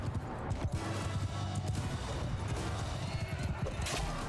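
Battle noise from the video game Mount & Blade II: Bannerlord, with horses neighing amid galloping hooves and clashing combat, a dense continuous din at moderate level throughout.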